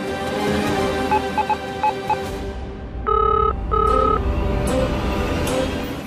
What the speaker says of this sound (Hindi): वो ध्रुव जी फोन नहीं उठा रहे